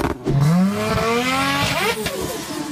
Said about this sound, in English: we'll make up some other sounds for the other three cars